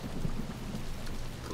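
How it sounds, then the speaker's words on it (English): Steady rain falls in the pixel-art video game Kingdom, a dense continuous hiss with a low rumble beneath, sounding fairly loud and unbroken throughout with no voices. "The rain is wonderful."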